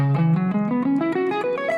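Plucked guitar notes climb steadily upward through a pentatonic shape, two notes per string, one after another in an even rhythm, bright and clear, with no voices.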